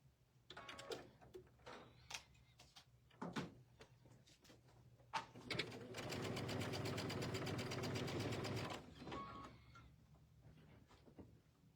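A home sewing machine stitches quilting fabric in one sustained, even run of about three seconds, with scattered clicks and handling knocks before and after in a quiet room.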